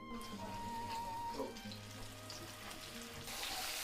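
A soft, continuous sizzle of flour-dusted chicken fillet frying in a hot pan, steady and fairly close, with faint kitchen clatter.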